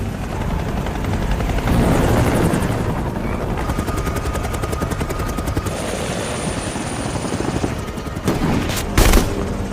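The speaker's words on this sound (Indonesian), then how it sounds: "helikopter patroli mengejar para imigran gelap yang mencoba melintasi perbatasan Meksiko menuju Amerika" Patrol helicopter in a film chase scene over the Mexico–US border, its rotor thudding loudly and steadily throughout, with a few sharp bangs and bursts like gunfire near the end.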